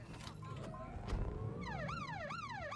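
A police car siren in a video game wails, sweeping up and down repeatedly over a steady engine rumble, loud and close, with electronic game-like tones earlier.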